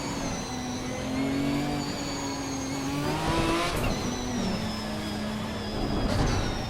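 Ginetta GT4 race cars idle and rev together at a rolling start at Suzuka in a racing game, a steady mid-pitched engine drone with rising revs and a couple of sharper bursts, with no talk over it.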